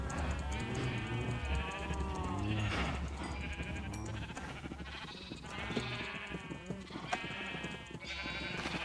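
Several sheep in the video game Minecraft bleat repeatedly in overlapping wavering cries, close and fairly loud, with a low rumble beneath and no clear talk over them.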